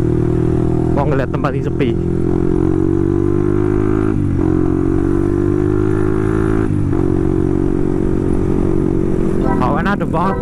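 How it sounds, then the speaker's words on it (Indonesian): A motorcycle engine idles and revs through its exhaust, a steady loud drone with a few sharper throttle blips near the start and end, while people talk over it. "Gua pengen cek sound knalpot lah, pengen cek sound kok"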